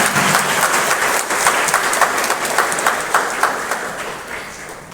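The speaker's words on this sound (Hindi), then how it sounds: "आइए हम ताली मारते हुए परमेश्वर को" A wedding congregation claps together after a couple is declared husband and wife, steady dense applause filling the room for the whole stretch and gently tapering near the end.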